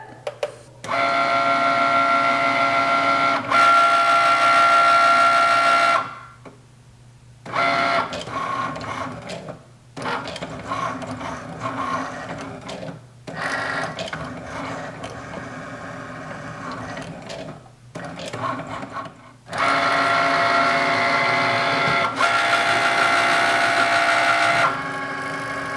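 A Cricut Maker cutting machine running a cut with a marker loaded, several bursts of whirring motor and carriage movement separated by short pauses, loud and close.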